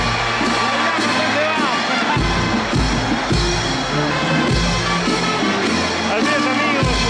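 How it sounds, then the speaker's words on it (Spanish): Festival crowd in Coracora cheering and whooping during a 2023 chamiza captains' presentation, a dense continuous roar with shouts and bangs throughout, no clear clapping separated out. "Aplausos, aplausos, amigos."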